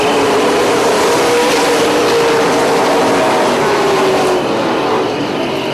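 Super late model race cars roar around an oval track at the start of a 100-lap race, a loud, continuous engine drone with a steady whine holding across the field.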